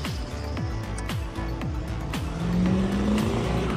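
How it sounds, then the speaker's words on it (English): A noisy heavy vehicle rumbles past nearby, its engine droning with rhythmic low thumps and a rising whine as it goes by. "Very noisy truck coming."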